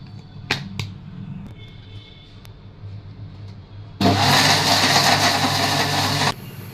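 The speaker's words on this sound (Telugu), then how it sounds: "ఇప్పుడు ఇది మొత్తం మ్యాంగోస్తో పాటు కలిపి మిక్సీ చేసేయాలి ఒకసారి." A kitchen mixer grinder blends mangoes with jaggery and sugar, starting abruptly with a loud, steady whirring burst that runs for about two seconds and then cuts off, after faint clattering before it.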